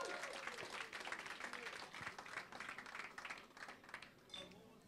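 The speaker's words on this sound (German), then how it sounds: "Applaus." Audience applause at a Volkswagen-hosted talk event, fairly quiet, steady clapping from a crowd that swells briefly and tapers off near the end.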